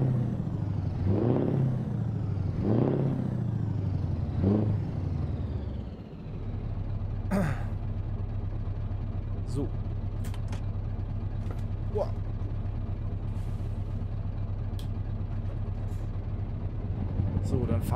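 A heavy truck engine with the Kriechbaum sound mod in a driving video game drones low and constant, with one rising rev at the start, someone talking over it early, and brief hisses and clicks later.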